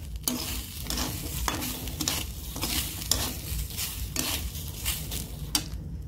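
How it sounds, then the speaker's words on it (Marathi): A utensil stirs and scrapes through moong dal roasting in a hot pan, with repeated strokes in a steady rhythm, close up and without talk. "आता आपण याला खाली वरी करून हलवून घेऊया।"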